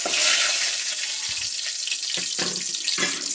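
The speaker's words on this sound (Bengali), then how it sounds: "তো তেল গরম হয়ে গেছে, তেলের মধ্যে আমি গোটা এলাচ, দারচিনি আর কাবাব চিনি আর লবঙ্গ, তেজপাতা ফোড়নে দিয়ে দিলাম।" Whole cardamom, cinnamon, cubeb pepper, cloves and bay leaves sizzle in hot oil at the start of a country chicken curry, a steady close-up hiss with a few sharp pops and crackles.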